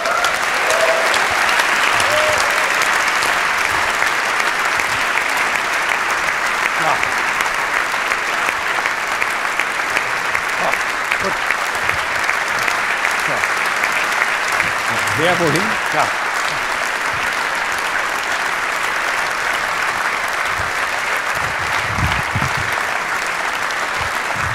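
A studio audience claps warmly and steadily for three guests walking on stage, loud sustained applause with a few brief spoken words heard under it.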